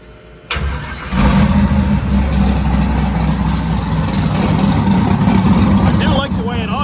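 A car engine turning over and catching, then settling into a steady, fairly loud idle with a low rumble in a garage, and a brief higher whine near the end.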